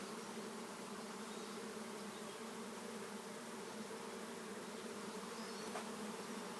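A swarm of honeybees buzzing during a swarm capture, a dense continuous hum with steady drone layers, close by and unbroken, with no voices over it.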